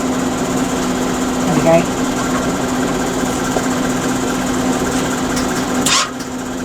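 The wire feed motor of a Sip MIG welder runs with a steady mechanical hum and whine under a steady electrical drone, and the tone drops near the end. Someone speaks briefly over it.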